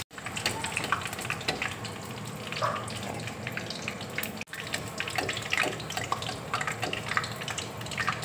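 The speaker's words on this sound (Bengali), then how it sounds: "জিলাপিগুলো দেখো ভাজা হয়ে গেছে" Pineapple jalebi frying in hot oil gives a steady, close sizzle with small bubbling crackles and one brief break partway through, with no talking.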